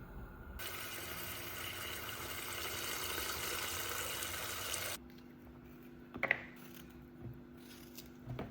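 Tap water runs steadily in a home kitchen while fruit is washed. The flow is a continuous close rush for about five seconds, then it stops, leaving quiet room tone with a few faint clicks.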